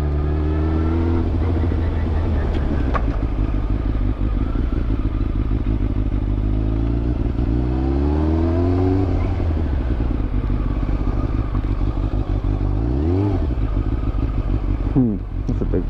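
A big motorcycle rides past on the road while a GY6 scooter fitted with a turbo kit runs nearby. Engine drone is loud and continuous and rises and falls in pitch, with a sharp sweep near the end.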